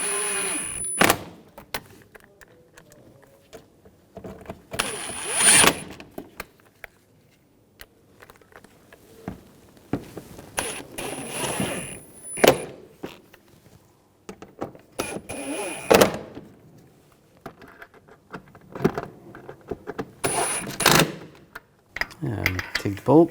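Bolts on a 2011-2018 Volkswagen Jetta TDI wagon's right CV axle are tightened in bursts of ratchet clicking and clattering metal, close and intermittent, with quiet gaps between.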